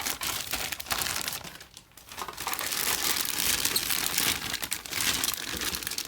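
Plastic bag holding the two hull halves of a Revell Star Wars Venator-class Star Destroyer model kit, crinkling and rustling near the mic in a continuous stream with a brief lull midway.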